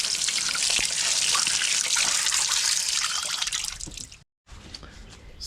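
Running tap water pours steadily over star fruit being washed by hand, a close, continuous splashing trickle that cuts off briefly near the end before resuming.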